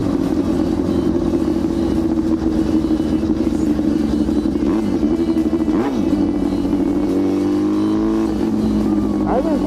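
A loud Yamaha R6 sport motorcycle engine drones steadily while riding, holding a constant buzzing tone with a brief rev and a rising shift near the end.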